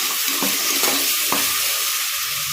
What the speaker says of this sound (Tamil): நல்லா வதங்கட்டும், வதங்கறதுக்கு கொஞ்சம் வெயிட் பண்ணலாம்.